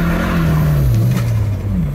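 A Volvo 240 Turbo, a 300 bhp sleeper, accelerates hard with one wheel spinning. The engine's loud, close drone wavers and climbs as it revs, heard alone without talk.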